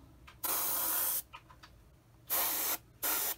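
Airbrush spraying model paint for a 1/48 Hasegawa F6F-3 Hellcat kit, giving three bursts of loud, close hiss, a longer first burst and two shorter ones, with short quiet gaps between them.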